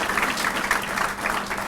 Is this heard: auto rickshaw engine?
no